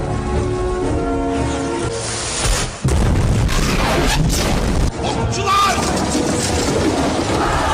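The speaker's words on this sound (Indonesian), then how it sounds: "Lalu Era bersiap menyulut meriam Basilika untuk pertama kalinya." Basilica cannon fired for the first time during the 1453 siege of Constantinople, heard as heavy booming blasts and crashing impacts over a dense, loud battle din with music, all close and forceful.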